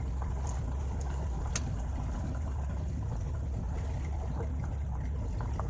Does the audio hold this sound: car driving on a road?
yes